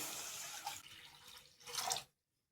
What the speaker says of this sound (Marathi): 2 ग्लास पाणी टाकून